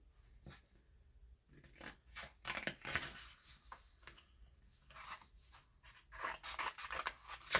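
Scissors snip and slide through paper while a small ticket is cut out for a junk journal, a quiet, close series of irregular crisp cuts with short pauses between strokes.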